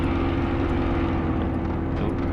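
A Spitfire's engine drones steadily in flight under stress during aerobatics, a loud, continuous propeller roar with a constant low hum that fills the whole stretch without pause.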